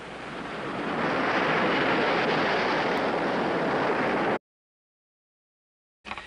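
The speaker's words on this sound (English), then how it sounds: "Here the energy of the waves seems concentrated." Ocean surf breaks along the shoreline in a steady loud roar of churning water, swelling over the first second, holding for several seconds, then cutting to silence before a brief return at the end.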